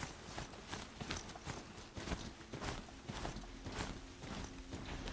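A horse's hooves clip-clop in Horizon Zero Dawn, a steady, rapid run of distinct hoof strikes at moderate volume with a faint ambient hum beneath and no speech.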